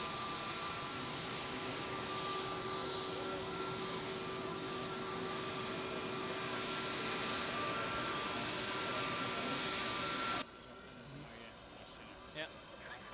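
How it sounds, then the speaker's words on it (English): Airbus A380 taking off at Zurich airport, heard from an observation deck as a loud, steady broadband jet roar with a droning whine that holds for about ten seconds, then cuts away to quieter surroundings. People talk nearby. "You're just in time for the A380 takeoff."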